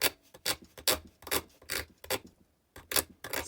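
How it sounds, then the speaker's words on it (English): A file scuffs corroded contact points inside an Aiwa PX530 in about eight short, rasping strokes that fall in an uneven rhythm with brief pauses. The scraping is close and fairly quiet, with no voices. "Useful to have a file here just to"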